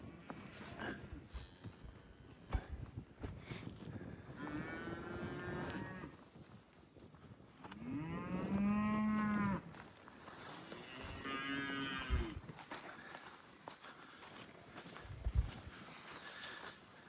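Adult cows on a farm moo several times, long drawn-out lowing calls at middling distance over a rustling outdoor background, with a few thuds and hoof sounds scattered between calls.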